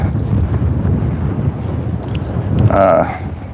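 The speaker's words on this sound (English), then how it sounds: "supposedly the wind is not supposed to be fierce like this tomorrow" Strong gusty wind buffets the microphone beside a small park lake, a loud continuous rumble with a brief voice rising near the end.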